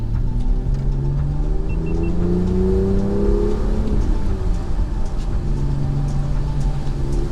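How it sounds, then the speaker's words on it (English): Two Italian sports cars climb San Bernardino Pass in the rain, their engines rumbling close by and sweeping upward in pitch as they accelerate, then settling into a steady drone. "I followed these two weirdly looking sport Italian cars up the pass"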